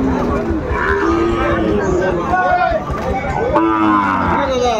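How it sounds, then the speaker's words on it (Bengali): A Sahiwal bull moos at the Ambari cattle market, with several drawn-out lowing calls rising above steady crowd chatter and haggling voices nearby. "এই গরুটি বেশ সুন্দর"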